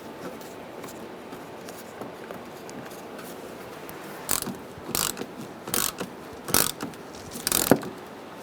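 Bolts are tightened by hand on the lower grille of a 2010-2013 Kia Soul, a few short ratcheting bursts arriving in the second half, close and fairly quiet over a low background hiss.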